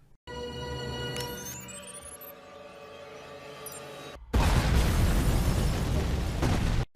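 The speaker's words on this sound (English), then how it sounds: "Todd sets off a bomb" A bomb detonates in the animated film Batman: Under the Red Hood, a sudden loud broadband blast after a tonal musical passage, roaring on for a few seconds before cutting off abruptly.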